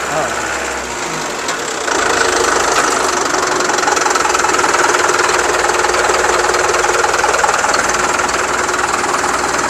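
Truck engine at a truck sale lot in Bengaluru starting up about two seconds in, then settling into a steady, loud, rattling idle that continues to the end.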